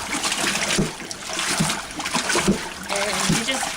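Freshly washed laundry is rinsed in water, giving repeated sloshing splashes and trickles at close range with a loose, uneven rhythm.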